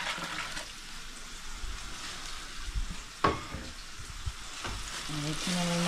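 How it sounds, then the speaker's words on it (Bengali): A kohlrabi curry spice mix sautéing in a pan over a gas flame, with a steady crackling sizzle and a few sharp stirring scrapes, up close. "মিক্সটাকে ভালোভাবে কষিয়ে নিচ্ছি, আস্তে আস্তে গ্যাসটা কমিয়ে দেব।"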